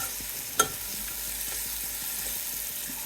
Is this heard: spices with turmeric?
yes